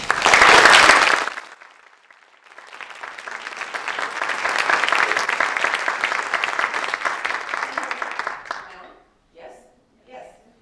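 An audience at a 2018 women's leadership event applauds to welcome a speaker. A loud burst of clapping comes first, then after a short pause a long, full round of applause that fades out.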